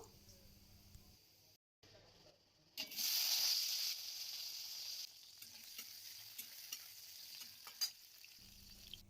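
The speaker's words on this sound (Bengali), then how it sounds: "আলুটাও ভাজা করে নেব আলাদা করে, আর এর সাথে আমি আলাদা করে বেগুনটাও ভাজা করে নেব।" Potatoes and eggplant frying in oil, heard as a bright hissing sizzle that swells suddenly and then eases into a steadier crackle. Brief quiet gaps and faint clicks come before it.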